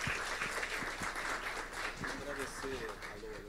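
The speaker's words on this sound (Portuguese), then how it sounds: "E vamos dar uma salva de palmas também para vocês," Sustained audience applause at a cultural panel discussion in Brazil, a dense steady patter of many hands with a voice faintly heard beneath.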